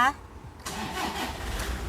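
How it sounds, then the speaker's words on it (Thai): A 2012 Toyota Vigo 2.5 Prerunner pickup's engine cranks and catches around the middle, then settles into a steady rumbling idle; a brief voice is heard at the very start. "เดี๋ยวขอสตาร์ทเครื่องยนต์นิดนึงนะคะ"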